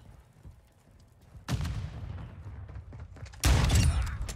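A flash grenade goes off in a first-person shooter team deathmatch, with two loud sharp bangs about two seconds apart, each ringing into a crackling decay over low rumble.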